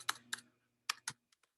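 Computer keyboard typing, a few sharp separate key clicks in two pairs with a short pause between them, then two faint taps, close and quiet with no talking.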